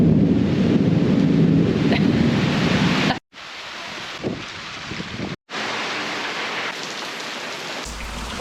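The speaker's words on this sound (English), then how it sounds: "It's raining very, very hard" Heavy rain in Indonesia pours down in a dense, loud roar, briefly cut off twice, then resumes just as strong.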